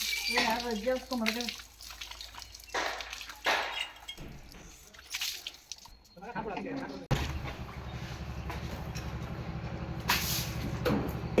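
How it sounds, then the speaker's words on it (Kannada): Cold water poured and splashed outdoors in a village setting, a steady rushing, gushing flow with splashes running through most of the stretch, while a person talks over it. "ಇದು ನೀರ ತಣ್ಣಗಿರೋ ನೀರು ಕೋಲ್ಡ್ ನೀರು ಚೆನ್ನಾಗಿ ಎರಸಿ ಎರ್ಸಿ ಅದ ಚೆನ್ನಾಗಿ ಹೊಡಿಬೇಕು"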